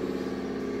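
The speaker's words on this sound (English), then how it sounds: "My compressor came on." A workshop air compressor motor runs with a steady, loud droning hum throughout, no pauses or voices.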